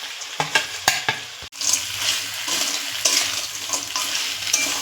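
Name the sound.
stir-frying crab and potato in spiced oil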